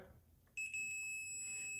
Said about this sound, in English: If it beeps, that means the points are connected